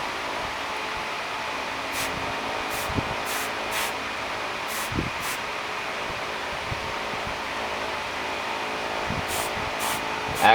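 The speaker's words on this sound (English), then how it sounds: "I'm going to spray from the side up." Copic airbrush spraying yellow paint from the side onto a frog popper fishing lure, a steady soft hiss running throughout with a few brief spurts and faint handling noises.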